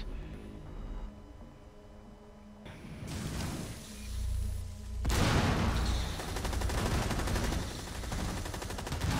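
Gunfire in Rainbow Six Siege: sparse shots give way to dense, sustained automatic bursts and heavy booms, loud and close, with no talking.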